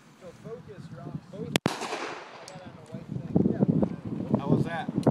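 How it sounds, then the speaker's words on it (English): A single sharp, loud .45 pistol shot cracks out on a shooting outing, with voices talking before and after the blast. "Shoot another one, Jay."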